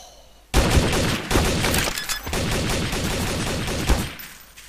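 An M16 rifle fires in Garry's Mod TTT: loud, rapid bursts of gunfire that start abruptly and continue in dense volleys for several seconds before trailing off.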